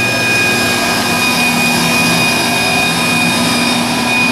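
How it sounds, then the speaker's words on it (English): Gas burners roar steadily inside a Siemens J-Mate 360G continuous sludge dryer with a stainless steel hopper and belt, a loud, unbroken rushing drone with a constant hum and no voices. "you can see that the burners are lit and bringing the temperature up to the desired rate"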